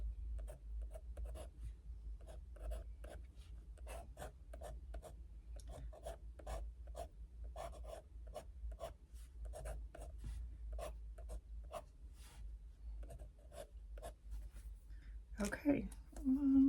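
A pen scratches across paper while drawing a flower, with short repeated strokes and rasping scribbles in irregular bursts, very close and quiet, and a voice speaks briefly near the end.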